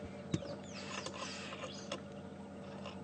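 A bird's call, likened to a stick rattling in the spokes of an upside-down spinning bicycle wheel, heard at Djuma Game Reserve on a morning safari drive: a dense, continuous ratcheting chatter over outdoor ambience, with a sharper tick near the start.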